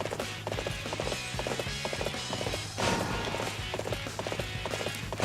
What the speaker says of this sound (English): I'm gonna jump back on my horse and go back to the main camp.